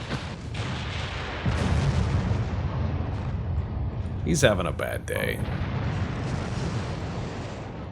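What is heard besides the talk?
naval artillery fire and explosions in video game Ultimate Admiral Dreadnoughts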